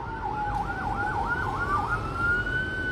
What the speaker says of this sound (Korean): 앰뷸런스거든요.